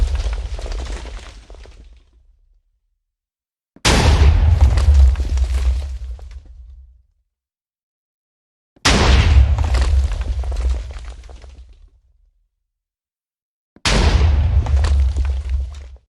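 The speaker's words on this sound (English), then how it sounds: "The missiles will continue to land until the bombardment is finished." Missile bombardment from an Iron Man datapack in Minecraft: four loud, heavy blocky-game explosions, each a sudden deep boom that rumbles and crackles for a few seconds before cutting to silence, spaced evenly apart, with no voices.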